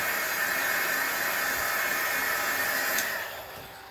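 Heat dryer blowing to dry paint on craft card, a steady loud whooshing hiss that holds for about three seconds and then fades as it is switched off.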